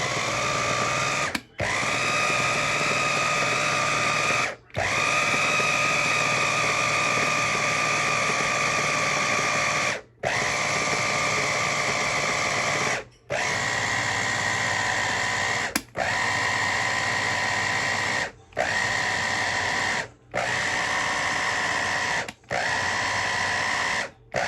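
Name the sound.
grinder mixing pork siomai ingredients with celery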